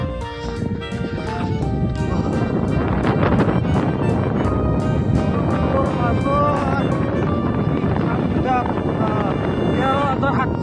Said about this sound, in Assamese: বতাহ মাৰি আছে বৰফৰ মাজত আছো